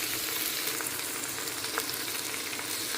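Ingredients sauté in a pan with salt just added, a steady close crackling sizzle running evenly throughout with occasional small pops and no speech.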